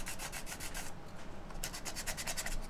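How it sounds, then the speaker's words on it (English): Sandpaper rubbed by hand in quick repeated strokes over a small DIY cassette tape or CD, a close, steady scratchy swishing that pauses briefly midway before resuming. "I got a little bit of sandpaper"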